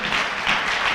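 A church congregation applauds and cheers in praise during a Sunday worship service, with steady dense clapping throughout that swells briefly midway, with no break between bursts.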